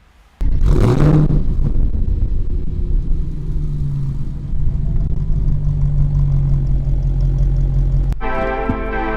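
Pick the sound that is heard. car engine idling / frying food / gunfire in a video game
car engine idling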